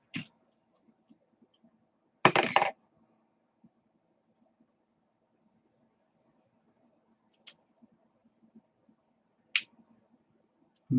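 A plastic body clip snapped back onto a ten-year-old RC car gives one sharp, close click burst near the start, followed by a few fainter, scattered ticks in a quiet room.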